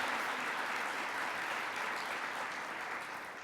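A large audience claps steadily at a national legislative gathering, a dense, even wash of applause that tapers slightly toward the end, with no talking over it.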